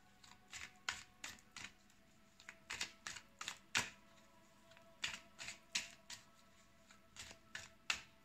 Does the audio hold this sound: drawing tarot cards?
yes